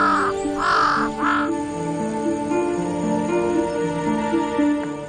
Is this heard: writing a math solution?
no